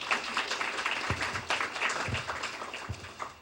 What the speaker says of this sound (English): can you all give her a round of applause